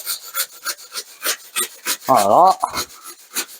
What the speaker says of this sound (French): On vient scier, toujours avec le sangle de la scie assez droite.